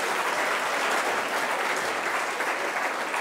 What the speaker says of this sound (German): mit einem grossen Applaus Dankeschön